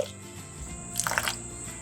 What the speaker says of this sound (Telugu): ఇందులో కాస్త నీళ్లు పోద్దాము.